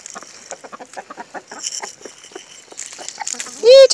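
Homestead chickens clucking nearby in quick, chattery bursts as a woman calls to them, ending with a sharp, loud squawk.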